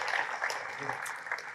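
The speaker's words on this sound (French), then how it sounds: "Est-ce qu'on peut applaudir Tyson, s'il vous plaît?" An audience claps in a steady wash of applause, fairly close and sustained through the whole moment.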